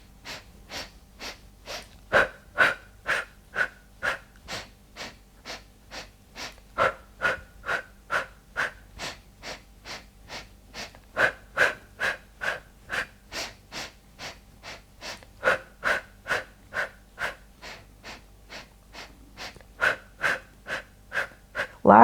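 Heavy, rhythmic breathing during a beginner Pilates shoulder and arm pumping exercise, with close sharp inhales and exhales repeating steadily at roughly two per second throughout.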